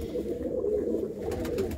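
Soft, low cooing rises steadily from a loft of pigeons in Gurdaspur, a quiet continuous murmur with a faint rustle near the end and no voices over it.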